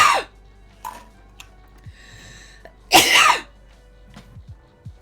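A sharp sneeze bursts out near the mic, preceded by a smaller sharp breath or cough and followed by light rustling and small clicks in a quiet room.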